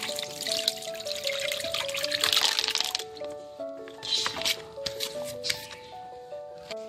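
Soaked tamarind pulp is strained with water, giving soft wet crackles, squishes and trickling close by while someone talks over it.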